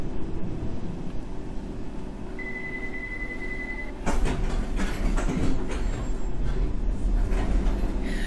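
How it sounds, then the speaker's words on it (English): A London Underground Circle Line train in the World of Subways 3 simulator rumbles steadily with a low droning hum and a brief tone, then rattles and clatters louder over the rails in the second half. "This is a Circle Line train to Hammersmith via Paddington."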